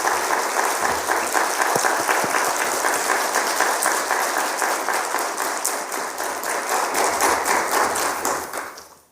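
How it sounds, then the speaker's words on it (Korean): Congregation at a Friday church service claps in a long, loud round of applause that tapers off near the end, with no speech over it. "우리 뜨거운 박수로 환영하겠습니다."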